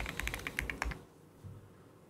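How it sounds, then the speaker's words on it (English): Quick, close keystrokes on a computer keyboard as a domain name is typed, about nine crisp taps in a rapid burst before falling quiet, with no talking. "type in our domain name again"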